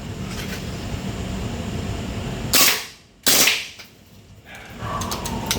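A Glock 18 pistol fires two short, sharp bursts in full auto close by, with a brief pause between them. A steady background hum runs before and after the shots.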